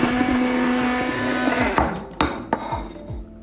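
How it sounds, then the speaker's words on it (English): Electric cake mixer whirring steadily through protein pancake batter with cinnamon, close and loud, then a few sharp clunks as the beaters knock against the bowl near the end. "Take it over to an electric cake mixer"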